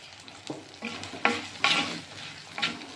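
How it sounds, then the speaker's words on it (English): Ingredients sautéed in a pan with rock salt for a South Indian vathal kuzhambu, heard as close scraping stirs and sizzling bursts, several distinct strokes over a steady crackle. "Again saute well till it changes the color to brown"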